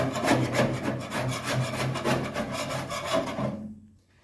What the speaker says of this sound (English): You don't have to go crazy trying to scrape off every last bit of glue.